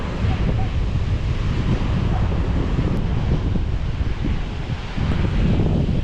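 Strong monsoon wind roars steadily across a coastline, buffeting the microphone while sea waves surge and break continuously, loud and close throughout.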